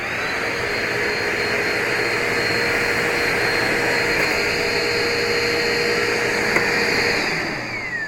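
A canister vacuum cleaner runs at nearly high suction, held off the floor, giving a loud, steady motor whine and airy rush that holds constant throughout, then dips slightly near the end, with no talking.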